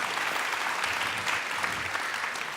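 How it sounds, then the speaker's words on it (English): Conference audience at a WIA 2019 speaker Q&A applauds the panelists, a continuous, even wash of many hands clapping, fairly close and sustained without talk. "So give us a big round of applause for the panelists."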